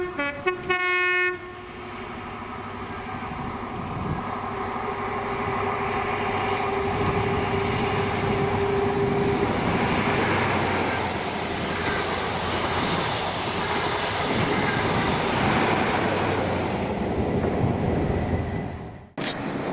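The Network Measurement Train, led by class 43 power cars 43299 and 43290, sounds a long horn blast, then roars past close by in Scotland with rolling wheel noise that builds and fades before cutting off abruptly.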